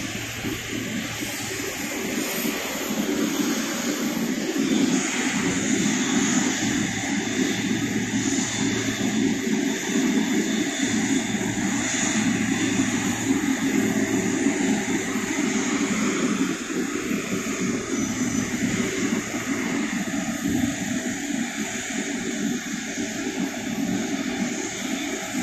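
Aircraft engines drone steadily at an airport as a Garuda flight carrying returning Hajj pilgrims arrives in Aceh from Madinah, a loud, broad roar holding for the whole stretch with no talk.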